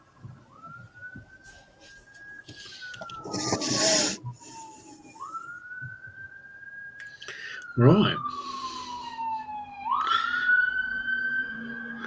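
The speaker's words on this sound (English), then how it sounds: "Why is it every stream you seem to get sirens?" A wailing siren rises and falls repeatedly in the distance, with brief rustling and a short spoken word close by.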